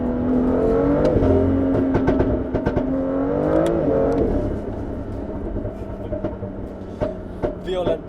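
A tuned BMW M2 by Manhart, said to make 420 horsepower, revs hard during aggressive driving, its engine note rising and falling in loud sustained pulls with speech partly mixed in.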